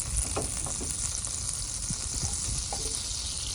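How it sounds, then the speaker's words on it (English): Butter bubbling and sizzling in a pan on a stove, a continuous close frying hiss with soft crackles and pops, steady and moderately quiet, no voices. "the energy underneath the butter is causing the butter to bubble or boil"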